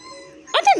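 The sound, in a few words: dogs whimpering and howling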